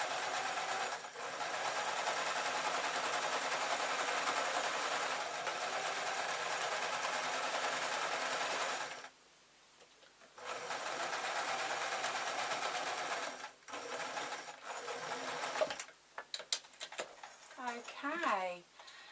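A sewing machine stitches a lined grab bag with interfacing in long, steady runs, pausing briefly around the middle and again near the end, where the motor stutters and a voice briefly speaks.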